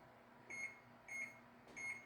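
An oven's timer gives three short, faint electronic beeps at an even pace in a quiet kitchen where dough is proofing.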